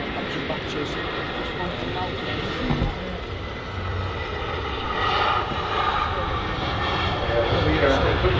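EasyJet A320 airliner arriving at Manchester Airport, a broad steady engine roar that swells slightly toward the end, heard from a distance beneath talk.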